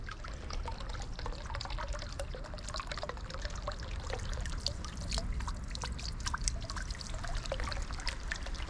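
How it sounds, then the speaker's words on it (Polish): Water trickles and splashes steadily nearby, a continuous soft patter of drips and small pours. "Jakie to jest uspokajające, jak tak woda sobie kapie."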